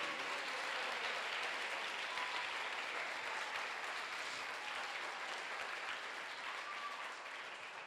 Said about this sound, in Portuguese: Então dá uma salva de palmas para Jesus nessa noite.